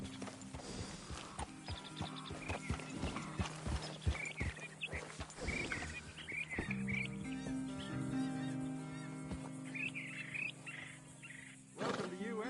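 Horse hooves clip-clop in a steady rhythm in Red Dead Redemption 2, crisp and close at first, then blending into a bed of game music, bird chirps and wild animal cries.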